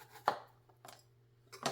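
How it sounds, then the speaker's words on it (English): A knife slices an onion into fine slices on a cutting board, three crisp, quiet chops spaced about half a second apart over a low steady hum. "I need to slice up some onion first before I can use it."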